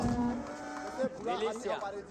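Cattle in the real-time strategy game Age of Empires 4 give a few short moos, fairly close and moderately loud, with a voice talking over them.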